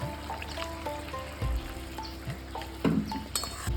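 Mustard paste gently frying in a pan for Bengali fish curry (bata macher jhal), a soft steady sizzle with occasional stirring scrapes and faint clinks, close and fairly quiet.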